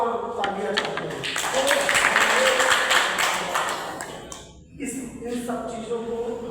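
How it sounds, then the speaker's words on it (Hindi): Crowd applause at a direct-selling business meeting, a dense burst of clapping that swells, fades briefly, then returns while a voice talks over it. "टीसी सर के लिए जोरदार तालियां चाहते हैं।"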